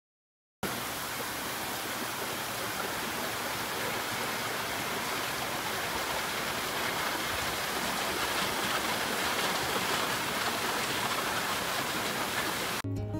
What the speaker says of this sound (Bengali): এদিকে এত জোরে বৃষ্টি নেমেছে, দাঁড়ান আপনাদেরকে একটু দেখাই